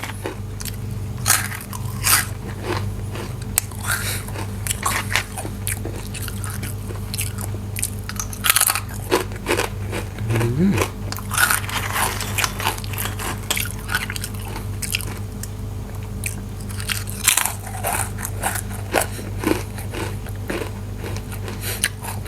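Crispy baked vegetables bitten and chewed up close, with a steady run of sharp, irregular crunches and crackles over about twenty seconds and no talking.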